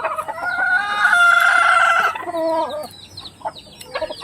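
A stag rooster in a backyard crows once, loud and close, a long harmonic cock-a-doodle-doo lasting about two seconds, followed by softer clucks and other fowl sounds.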